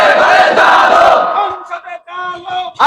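A large crowd at a religious gathering shouting a slogan in unison, a loud massed roar of voices that breaks into ragged chanted calls and ends on a sharp renewed shout.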